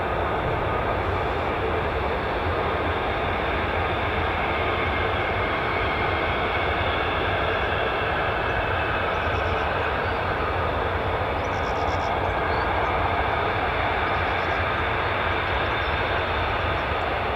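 An F-35 stealth fighter jet roars loud and continuous at RAF Lakenheath, a dense unbroken engine rumble and hiss that holds steady throughout with no talking.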